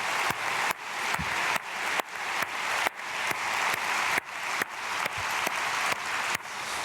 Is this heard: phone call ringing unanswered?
no